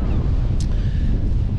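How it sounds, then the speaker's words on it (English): Strong gusty wind buffets the microphone beside boats moored at Kilmore Quay harbour, a loud, steady low rumble with a faint brief splash or clatter partway through. "It's very windy, so now we'll see how the noise reducers work"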